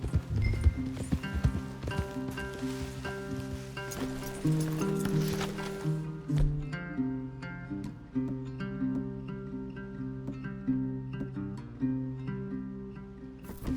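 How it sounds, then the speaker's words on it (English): Horses in the video game Red Dead Redemption 2 clop along under a swelling orchestral score, hooves and tack faint beneath sustained music throughout. "Leave the horses in the trees there."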